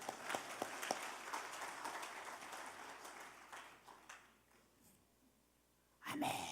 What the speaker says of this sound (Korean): 박수 쳐드려야 되죠?